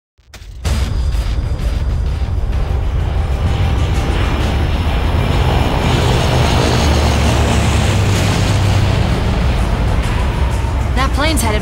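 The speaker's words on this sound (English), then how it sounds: "That plane's headed right for the airport." A C-130 transport plane in Left 4 Dead 2 roars loudly and steadily overhead, its broad propeller and engine drone filling the clip from start to finish, with explosive rumbles mixed in.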